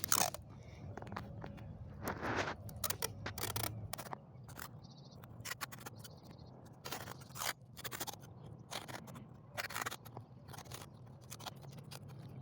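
Clear cello tape being pulled and wrapped around four bottles held together for a water experiment, heard as close, repeated crackling tears and scraping bursts in an irregular rhythm, with no talking.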